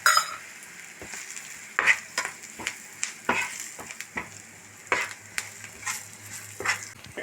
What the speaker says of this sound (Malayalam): രണ്ട് സ്പൂൺ മല്ലിപ്പൊടി ഒരു സ്പൂൺ ഗരം മസാല നന്നായിട്ട് മിക്സാക്കി കൊടുക്കാം